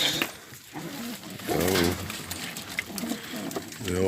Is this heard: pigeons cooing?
yes